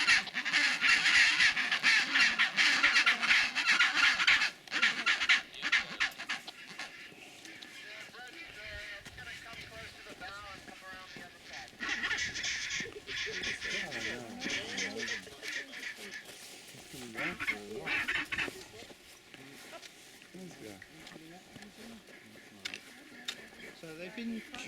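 A colony of chinstrap penguins on Halfmoon Island, Antarctica, keeps up a dense, continuous chorus of harsh braying calls from many birds at once, near and far, steady throughout with a few louder bursts.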